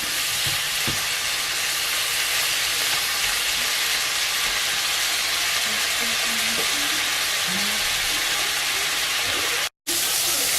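Prawns for palabok fry in a pan, giving a loud, continuous sizzle with occasional stirring scrapes throughout and a brief dropout near the end, no voices.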